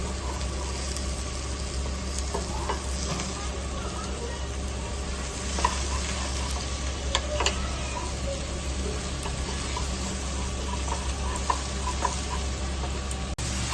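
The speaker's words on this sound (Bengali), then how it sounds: "গ্যাসের ফ্লেমটা হাই করেই আমরা মাশরুমটাকে ভাজবো" Mushrooms fry on a high gas flame, giving a steady close sizzle over a constant low hum, with occasional light stirring clicks and no speech.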